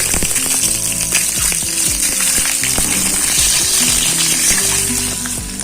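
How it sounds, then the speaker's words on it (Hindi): Eggs frying in a pan of oil for a spicy egg curry, a loud, dense, continuous sizzle with crackles and occasional stirring scrapes, close and unbroken throughout. "इन अंडों को हम गोल्डन ब्राउन होने तक फ्राई करेंगे।"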